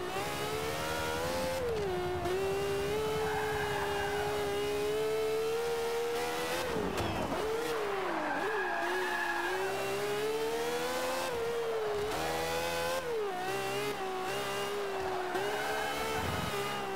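Race car engine in a video game, a loose, beat-up car driven too fast, revving continuously with rising and falling pitch sweeps as it accelerates and shifts, with brief tire squeal, loud and steady with no talk.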